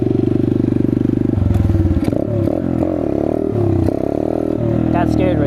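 A Chinese dirt bike engine hums steadily, then revs and blips in uneven bursts during a wheelie attempt, close and loud, with clattering over the rough throttle changes.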